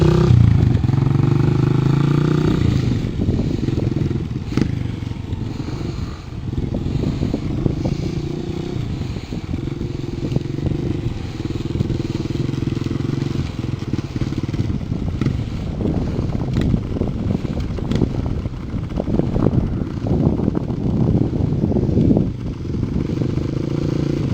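A dirt bike engine drones steadily as the seated rider shifts gears up and down, the pitch rising and falling with speed changes, with wind buffeting the microphone throughout.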